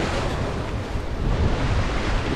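High, deep ocean waves break and wash along the shore near Jemmel, Monastir, Tunisia, a loud continuous roar of surf mixed with wind buffeting the microphone.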